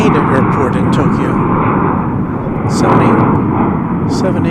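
A jet airliner roars steadily at DFW Airport as it lines up for takeoff on flight 175 to Haneda, a loud broadband engine rumble with someone talking over it.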